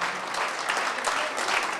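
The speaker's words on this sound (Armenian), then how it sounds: "եկեք մի հատ շատ բարձր ծափահարենք մեր զույգ ծաղիկներին" Wedding guests applaud the couple in a steady burst of crowd clapping that fills the room, dense and even throughout with no pauses.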